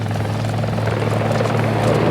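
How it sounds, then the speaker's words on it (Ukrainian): Helicopter in the video game Squad, a steady loud rotor and engine drone with a strong low hum, continuous and close throughout. "та ні, то гелікоптер"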